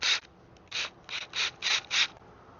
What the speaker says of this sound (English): See if I can drill it out.